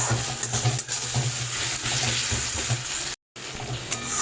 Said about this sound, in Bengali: এবার আমি এই মশলাটা দিয়ে আর এই টমেটো আর পেঁয়াজটা দিয়ে মশলাটা বেশ ভালোভাবে কষাবো